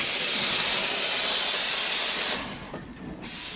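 A steam engine gives a loud, close, continuous hiss of escaping steam that cuts off abruptly near the end, leaving a quieter rumble with a brief burst of hiss returning.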